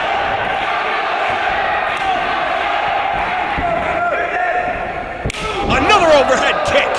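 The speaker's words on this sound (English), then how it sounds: "Listen to this crowd." Wrestling arena crowd at an independent pro wrestling match roars steadily after a shooting star press, a dense wash of shouting and cheering that swells louder near the end, with a commentator talking over it.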